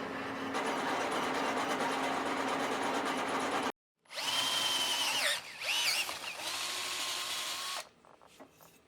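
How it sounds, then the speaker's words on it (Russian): Machine noise from a metal lathe turning a welded part for a Tohatsu outboard project, a steady broadband whir that cuts out briefly, then resumes with squealing, shifting tones before settling into a quieter hum. "После сварки снова протачиваем деталь на станке."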